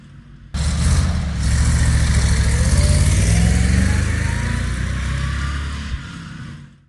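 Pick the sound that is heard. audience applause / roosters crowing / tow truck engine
tow truck engine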